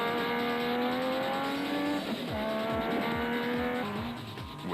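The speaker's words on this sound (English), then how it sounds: "For Krobla and Jordan, it was all-out racing." Race vehicles, including a Ford Ranger, speed past in an all-out race, engines droning at a steady high pitch and then falling in quick Doppler drops as several machines whoosh by in succession.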